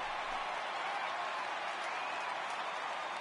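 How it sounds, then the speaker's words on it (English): A stadium crowd in a PS4 baseball video game gives a steady, broad roar of cheering and applause that holds at an even level throughout. "The crowd is ready to erupt as their guys get set to take the field."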